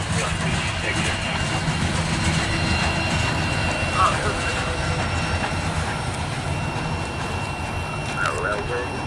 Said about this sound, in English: Oh, the guy's last car. No helpers on this train.